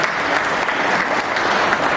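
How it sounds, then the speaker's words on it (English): A full round of applause from the audience at a Kolkata book launch, thick and even clapping from many people that stays loud and continuous for the whole short stretch. "I think they deserve a big round of applause"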